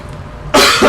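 A person imitates a cough during a tabletop roleplaying game, giving one short, loud, close burst of voiced coughing after a moment of quiet.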